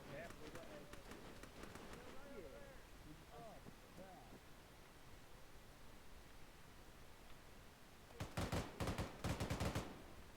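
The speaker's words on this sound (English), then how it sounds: "Who is shooting at what?" Gunfire in the tactical shooter Arma 3, a quiet stretch with distant voices and movement, then a loud cluster of sharp shots near the end.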